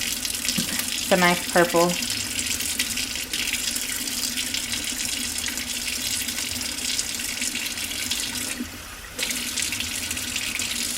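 Tap water runs steadily from a faucet into a sink while bleach is rinsed out of a lace frontal wig, a continuous close wash with a brief voice over it near the start.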